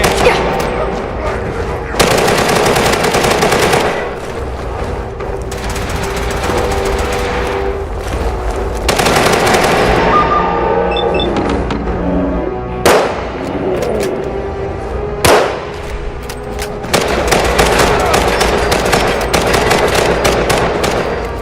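Rapid, loud bursts of automatic gunfire from a Fallout 4 battle, with sustained rattling volleys broken by brief pauses and sharp single shots, dense and close throughout.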